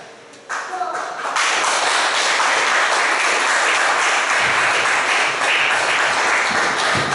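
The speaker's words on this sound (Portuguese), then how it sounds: "então aplauda o Senhor." Congregation applauding at a Portuguese-language church Sunday school session, a dense, steady wash of clapping that swells in after a brief quieter start and carries on loudly throughout.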